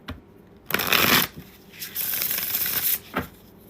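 Tarot cards being shuffled by hand, two bursts of crisp riffling, each lasting about a second, close and clear with a brief pause between, and no talking over them.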